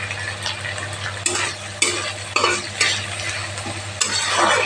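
Shidol bora fritters made with pumpkin leaves frying in oil over a medium flame, with a strong constant sizzle and repeated loud scraping and stirring strokes of a spatula against the pan, close up and free of talk.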